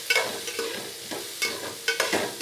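Shallots, garlic, green chili, cumin, fenugreek and mustard seeds tempering in hot oil, heard as soft close sizzling with repeated scraping stirs of a spoon in the pan, no voices.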